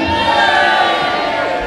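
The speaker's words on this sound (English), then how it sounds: "All support from Steve's crowd." Spectators at a darts match cheer and shout together, a steady, fairly loud crowd roar with whistling and raised voices running through it.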